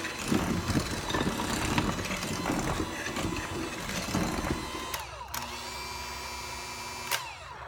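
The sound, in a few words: mixer mixing vanilla into sugar cookie dough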